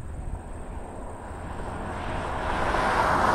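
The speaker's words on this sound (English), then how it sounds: "We have a Cessna Caravan seaplane inbound from Toronto coming in on 24 right." A Cessna Caravan seaplane inbound to land on runway 24 right gives a steady, broad engine and propeller drone that swells gradually louder as it approaches.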